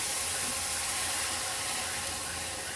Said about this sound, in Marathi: आता ह्याच्यामध्ये मी एक मोठ्या पेला भरून पाणी घालते